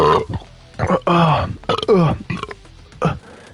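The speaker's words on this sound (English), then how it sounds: "Big burp." A loud, drawn-out burp with several guttural pulses, close to the microphone and heard alone, from someone drinking beer.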